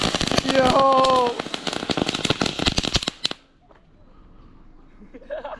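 Firecrackers and fireworks go off in Hawaii in a dense, loud run of sharp cracks and pops lasting about three seconds, with a brief whistling tone early on, then a quieter stretch with voices.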